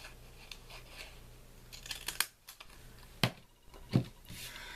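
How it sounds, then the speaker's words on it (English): Decorative scallop-edge scissors snip along the bottom edge of paper in a few distinct crisp cuts, with light rustling in between, close up and fairly quiet. "I just took some decorative scissors and just went along the bottom to make a cute scallop edge"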